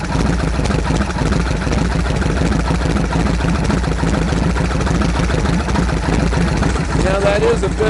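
A Harley-Davidson Shovelhead V-twin fitted with a Mikuni carburetor and a raspy cam idles steadily and loudly throughout, a continuous low throbbing rumble with brief faint higher tones near the end.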